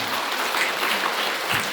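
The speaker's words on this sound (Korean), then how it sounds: "우리 CNC 관계자들 분을 위해서 박수 한번 드릴까요?" Audience at an education information session clapping together, a dense, even patter of many hands that holds steady for a couple of seconds at moderate loudness.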